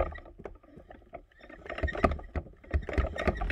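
A Syrian hamster running in its exercise wheel, giving close, quiet, rhythmic pattering and creaking that speeds up and grows louder toward the end.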